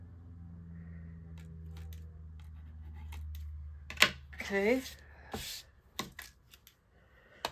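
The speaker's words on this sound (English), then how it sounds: "I'm gonna cut these ones off. Got my other scissors." Scissors snip Christmas card paper in a few sharp, close cuts with rustling paper between them, following a low hum and a brief spoken word.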